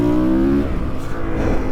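A Honda CRF 450 supermoto motorcycle engine revving loudly and close by, a sustained rising engine tone that drops off partway and then continues as a rough, throaty idle.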